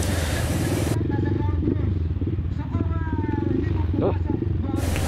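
Large motocross motorcycles idle and rev nearby on the way to the starting gate, a steady loud engine drone with rising throttle blips, while someone talks over the noise.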